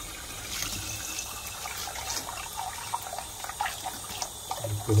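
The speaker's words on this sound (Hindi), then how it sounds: "पानी डाल के निकाल दिया।" Water is poured over boiled frozen vegetables in a home kitchen, a steady splashing, trickling flow like a tap running into a pot or sink, fairly close and continuous with no talk.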